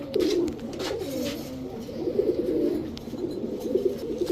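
Young White Golden pigeons, newly grown squabs, coo and murmur softly in a continuous low stream, close by, with no voices over them.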